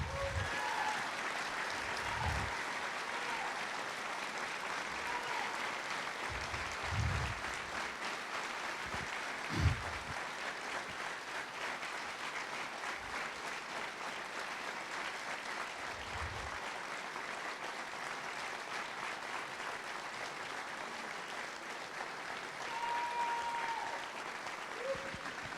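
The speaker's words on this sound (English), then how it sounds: "it would be really nice if right now we gave her a really good round of applause" Applause from a crowd at a political campaign rally in Exeter, New Hampshire: sustained, even clapping from many people, fairly distant and soft, with occasional louder claps and faint voices mixed in.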